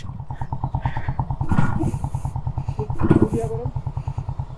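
A Yamaha RX 100 motorcycle engine chugs in a rapid, even idle-like pulse, close and continuous, while someone talks over it.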